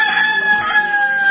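A rooster crows once, a loud, close, strained call that holds for just over a second.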